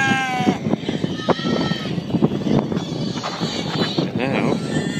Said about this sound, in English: Then you have goats.